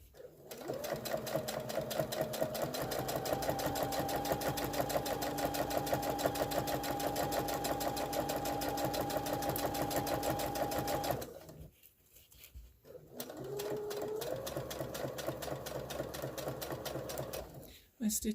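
Sewing machine stitching fabric for a stand mixer cover, a loud steady run of rapid stitches lasting about eleven seconds, a brief pause, then a second shorter burst of stitching.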